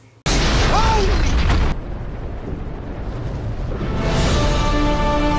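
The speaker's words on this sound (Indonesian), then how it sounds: "bom tersebut meledak satu persatu dan Barney dengan cepat lari dari sana" A loud explosive boom of bombs in a film bursts in suddenly, then a rumbling roar of blasts and debris builds again, with no talk.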